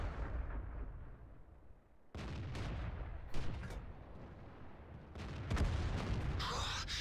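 FV304 self-propelled artillery firing in World of Tanks: a steady low rumble of battle broken by a sudden loud gun report, then several sharp booming shots and bursts in quick succession.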